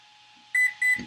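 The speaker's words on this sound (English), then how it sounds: "You're going to get those beeps." Electronic beeps from a Traxxas Max5 G2 speed controller entering calibration mode on an XRT build: two short, bright, close tones in quick succession, nearly alone.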